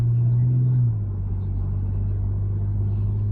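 An Audi car driving on the road, with a steady low engine drone and road rumble heard from inside the cabin and a brief pitch drop near the start.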